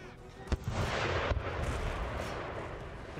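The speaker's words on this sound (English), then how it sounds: "Skirmishers. Give the general a volley." Skirmishers fire a musket volley in Empire Total War, a sharp crack followed by a second report and a long rumbling roar of massed battle gunfire that fills the whole stretch.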